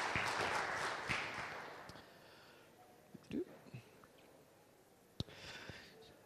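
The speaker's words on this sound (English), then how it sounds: "If we could all please get a round of applause for x11 for finally working." A keynote audience at a hacking conference applauds, a burst of clapping at the start that fades within about two seconds, followed by scattered small sounds and a single late clap.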